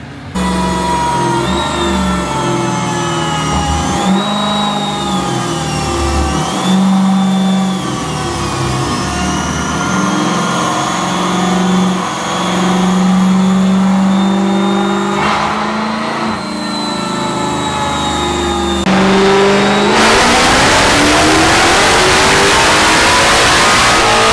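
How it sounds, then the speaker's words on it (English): A Dodge Challenger Hellcat Redeye engine with a Magnuson supercharger revs hard and continuously with a whining pitch, rising and falling, then roars into a broad, loud rush near the end. "show you guys how this car sounds on the Magnuson supercharger"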